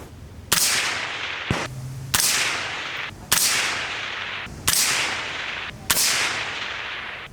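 Five sharp 224 Valkyrie rifle shots firing 60-grain rounds, each a loud crack with a short decaying tail, spaced about a second apart, outdoors at a range.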